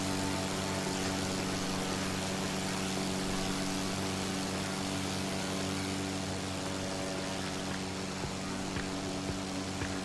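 A Tiger Moth biplane engine in Microsoft Flight Simulator drones steadily at about 2000 RPM, a constant propeller hum with a throbbing harmonic buzz, heard alone and unchanging throughout.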